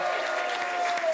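An audience at a French game show breaks into dense, steady applause for a contestant, loud and continuous throughout the short burst.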